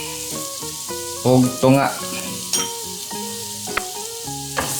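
Garlic frying in a tablespoon or two of oil in a pan sizzles steadily, flaring louder in short bursts as it is stirred, while a person talks over it.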